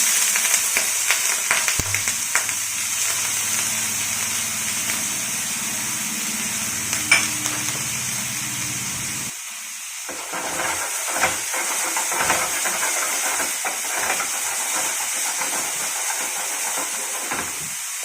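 Chopped beans, carrot and potato fry on high flame in a pan, a steady hiss and sizzle with bursts of stirring scrapes, loud and close, the sizzle dropping briefly before resuming.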